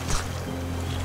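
Storm wind and waves in the game Raft roar and slosh against the floating raft, a dense, loud rush of water and gusts with a low rumble running steadily underneath throughout.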